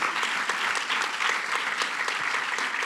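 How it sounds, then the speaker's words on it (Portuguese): A crowd claps steadily for Júnior at a live event, a dense, even patter of many hands lasting the whole stretch, with a faint voice beneath it. "Uma salva de palmas para o Júnior aí também"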